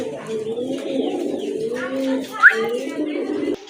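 A pair of Rajshahi Giribaz pigeons coo up close in soft, repeated rolling phrases, with a brief sharper chirp near the middle.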